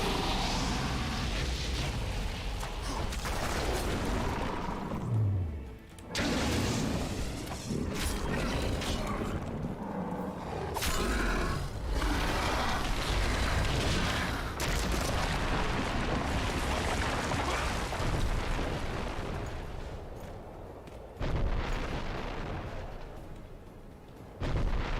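Artillery fires during a video game battle, a dense, loud barrage of booming blasts and rumbling that continues almost without a break, with only a few brief lulls.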